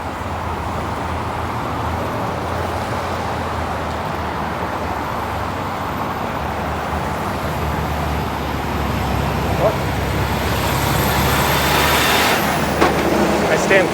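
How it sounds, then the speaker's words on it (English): A GO Transit bus rolls close behind a cyclist on a busy Toronto street in North York, its engine a steady low rumble under continuous traffic noise, with a brief hiss near the end. "And that GO bus is right behind me."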